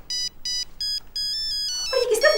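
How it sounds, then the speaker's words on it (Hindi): A mobile phone ringtone plays as a run of bright electronic tone bursts, repeating about five times in an even rhythm before a rougher sound takes over at the end. "तुमने मोबाइल रिंग चेंज कर ली है?"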